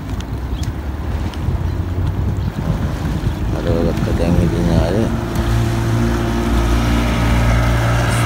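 A Sri Lankan fishing boat's engine drones steadily as the boat heads out to sea, with heavy wind buffeting the microphone, rushing water and faint voices nearby.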